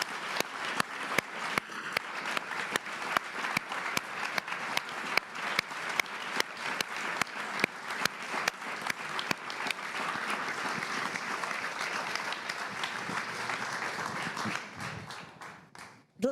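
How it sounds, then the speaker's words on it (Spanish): Sustained applause from a crowd, dense and steady clapping with sharp individual claps standing out, tapering off near the end. "vamos a empezar dándoles un gran aplauso a Óscar y Roberto"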